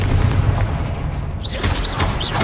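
Confringo explosive spell blast in Hogwarts Legacy, a heavy booming burst with rumbling low end, followed by a few short whooshing magical streaks, loud and close with no voices.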